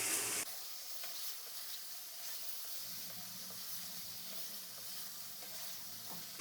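Chicken frying on high heat for a Shinwari karahi gives a continuous, fairly quiet sizzle and hiss, with occasional stirring clicks and no talk.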